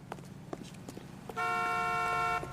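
A car horn in the video game L.A. Noire blares loud and steady for about a second after a few soft thumps and footsteps, its tone sustained and brassy over quiet background noise.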